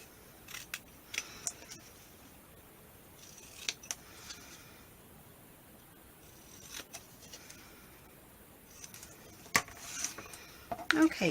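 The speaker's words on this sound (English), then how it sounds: "but we're just going to trim that down." Paper card for a watercolour tag is trimmed with scissors, giving a series of short, crisp snips and rustles spaced across the clip, close and fairly quiet, with no talking.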